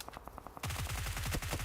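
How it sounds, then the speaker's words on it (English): A grenade goes off in the PUBG Mobile game during a PUBG Mobile World Cup esports match, heard as a rapid string of sharp, punchy bursts that grow louder and denser partway through. "Well placed. A detonation."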